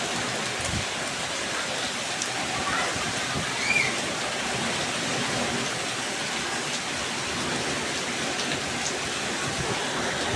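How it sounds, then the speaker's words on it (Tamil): Heavy rain pours down steadily, a dense, loud hiss of drops drumming on surfaces for the whole stretch without pause or voices. "மழை கொட்டுது"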